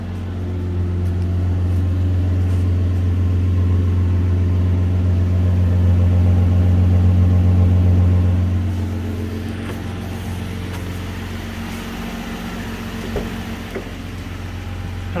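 A Toyota Land Cruiser 80 series runs at a steady, loud idle, heard up close from behind the vehicle as a deep, continuous rumble that eases slightly partway through, with no talking.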